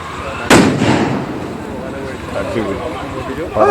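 One sharp, loud firecracker blast bursts close by to drive away wild elephants, echoing away, followed by voices talking outdoors.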